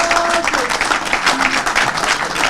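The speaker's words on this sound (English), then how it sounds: "Let us all, with a rousing applause, thank all my executives" A crowd at a political campaign launch applauds, loud, dense clapping with swelling and dipping intensity and a few faint voices mixed in.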